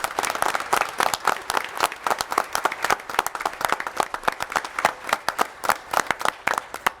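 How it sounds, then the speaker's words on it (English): An audience at a public school board meeting applauds for several seconds, a dense, even patter of many hands clapping at moderate volume in an indoor room. "Let's give them a round of applause."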